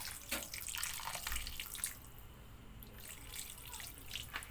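Water runs steadily while being poured into a pot of Filipino pork adobo, a close trickling splash that thins toward the end.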